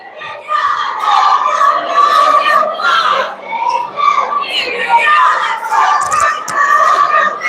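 At a girls' high school basketball game between the Clarendon Lady Broncos and Quanah, the gym crowd cheers and shouts loudly and continuously, with high-pitched voices yelling in waves.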